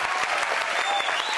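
Senators from several political parties applaud at a government workshop in Fresno, Tolima, a dense, steady burst of clapping from a room full of people, loud and unbroken throughout.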